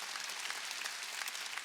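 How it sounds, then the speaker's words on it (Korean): A church congregation at a Wednesday worship service claps together in a short burst, steady, dense and moderately distant, with no voices over it. "박수 쳐"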